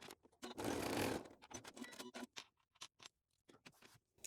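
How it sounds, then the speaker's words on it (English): Sewing machine stitching the end of a strap on a crossbody bag, a short whirring run followed by irregular taps and clicks, close and quiet, with no talking. "I'm just going to stitch it at the end."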